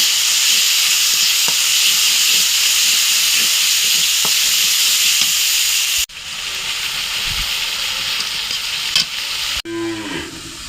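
Spice paste sizzles and hisses steadily in hot oil in a pan with occasional stirring scrapes, loud and continuous, before it cuts to other kitchen noise near the end.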